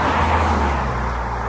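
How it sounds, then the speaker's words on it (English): A car drives past on a road in the Peak District countryside, a steady close engine and tyre roar filling the short moment without any talk. "I'll let this car go past."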